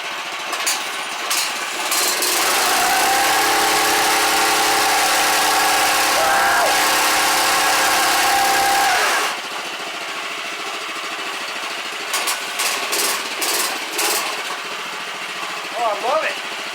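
A Honda engine on a mini bike is pulled once and starts, running loud and steady for several seconds before settling lower, with bursts of revving near the end.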